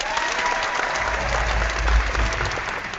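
Applause from a small group on a holiday social media panel show, a steady dense patter of hand claps lasting the whole stretch with a low rumble swelling near the end.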